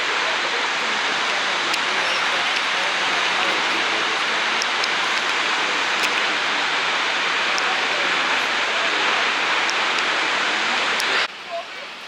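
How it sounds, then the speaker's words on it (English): Snoqualmie Falls roars in a loud, steady wash of rushing water that drops away abruptly at the very end. "Love waterfalls."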